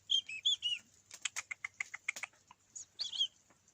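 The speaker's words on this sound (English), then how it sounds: "It's a fat wee bird." A small plump bird chirps in quick bursts of high, bright tweets, close and fairly loud, with a rapid run of clicky notes in the middle and no talking.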